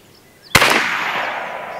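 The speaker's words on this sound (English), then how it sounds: "I'm going to go ahead and give it one more shot to the left-hand side." A Challenger Pro 357 PCP air rifle fires a slug at a target: one sharp, loud crack followed by a long, slowly fading reverberant tail.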